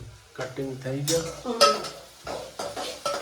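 Spoon stirring and scraping in a pan as tomatoes go into tempered chana dal with cumin, mustard seed and asafoetida, rhythmic clanks over a soft sizzle, with a short spoken remark.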